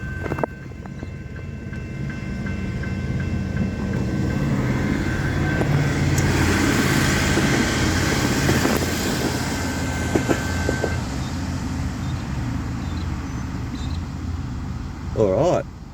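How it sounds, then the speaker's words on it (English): A single Doodlebug railcar pulls away in wet weather, its engine rumbling and rising to a steady drone before easing off, with rain noise underneath and a voice speaking over it. "Oh, we got to see some Doodlebug action anyway."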